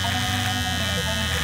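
An electric hair clipper buzzes steadily and close while cutting very straight hair, a continuous drone with no speech.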